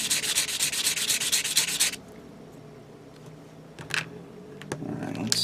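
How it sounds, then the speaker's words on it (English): Fine sandpaper scrubbing on a 1/144 HG Gundam plastic model kit part, steady and close for about two seconds, then quieter scattered rubbing and small handling taps. "I have this finer sanding paper."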